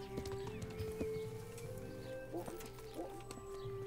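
Horse hooves clip-clop in the medieval game Kingdom Come: Deliverance, a short run of close, regular hoof knocks mixed with game sounds and a brief snort-like vocal.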